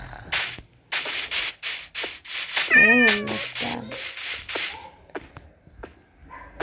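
Minecraft cat meowing repeatedly in the video game, a series of clear, close meows in quick succession, with one longer, drawn-out wavering cry near the middle.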